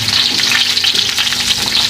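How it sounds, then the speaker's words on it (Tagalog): Onions fry loudly in a wok for Kapampangan pork steak, giving a close, continuous crackling hiss with busy popping spatter throughout and no speech. "piprito ko yung sibuyas para yung lasa ng sibuyas"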